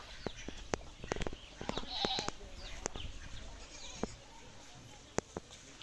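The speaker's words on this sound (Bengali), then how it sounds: "তো চলেন একটু ছাগলগুলোকে দেখাই আপনাদেরকে।" Goats on a goat farm bleat in short calls scattered over several seconds, close and fairly loud, with some background activity and occasional clatter.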